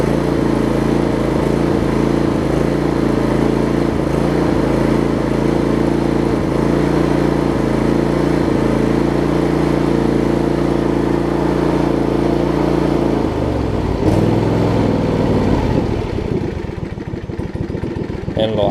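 A John Deere LX279 lawn tractor engine idles steadily up close with a low, even rumble, then the note shifts and drops near the end.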